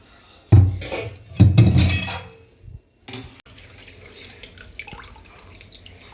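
Set soy curd liquid poured into a muslin cloth for homemade tofu comes as two heavy, close sloshing gushes, then a quieter trickle and dribble after a brief clink.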